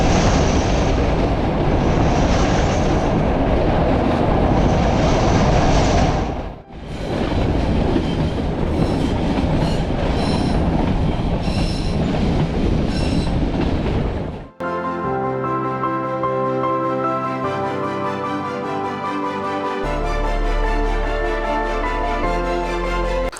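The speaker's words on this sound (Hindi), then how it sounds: "ये ट्रेन सासणगिर के घने जंगल के बीच से गुजरती है।" A meter gauge heritage train runs through the dense Gir forest between Junagadh and Veraval, with a loud rumbling roar of wheels on the rails, a brief dip, then a steady rhythmic clatter and hum.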